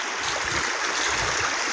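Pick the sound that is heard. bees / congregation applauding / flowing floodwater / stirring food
flowing floodwater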